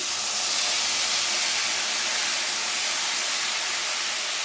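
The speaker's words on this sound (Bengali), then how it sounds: "ফোড়নটাকে হালকা নেড়ে চেড়ে ভেজে নেওয়ার পরে এখানে অ্যাড করে দিচ্ছি পোস্ত বাটাটা।" Poppy seed paste hits hot mustard-oil tempering left from frying rohu fish, giving a steady, loud, continuous sizzle and hiss with no breaks and no voices.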